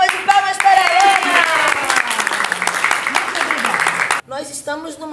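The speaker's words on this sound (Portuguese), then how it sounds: "Palmas de palmas para a Helena!" An audience at a charity fashion event at a retirement home for artists in Rio de Janeiro applauds in a dense burst of clapping and cheering under lively music, fading briefly near the end.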